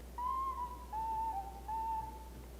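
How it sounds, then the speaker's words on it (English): Whistle patch on a Roland JX-3P synthesizer plays a clear, pure whistling melody in three sustained phrases, each gliding slightly, steady and moderately loud over a low constant hum, with no voices. "I have the song whistle patch going on in the back"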